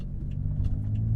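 BMW F10 5 Series with an Eisenmann axle-back exhaust in Sport Plus mode, cruising gently through a residential area, gives a steady low rumble. It stays loud and even for about a second.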